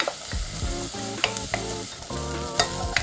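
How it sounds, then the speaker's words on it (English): Onions and garlic sautéing in a pan while being stirred, a steady close sizzle with repeated scraping strokes of the utensil across the pan, no talk. "I'm gonna saute these onions and garlic for just a few minutes until they're softened a little bit."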